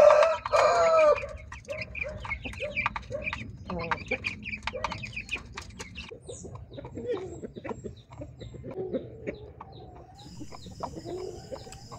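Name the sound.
chickens clucking, with a young rooster (stag)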